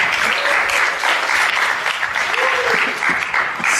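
Conference audience claps in dense, loud applause after a blockchain malware demo, with a voice briefly audible over it.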